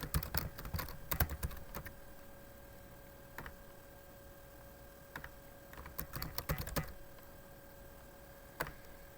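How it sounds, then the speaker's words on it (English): Fingers tap out a name on a computer keyboard in quiet, uneven bursts of quick clicks separated by short pauses, close and soft, with no one talking. "you can manually type in their name"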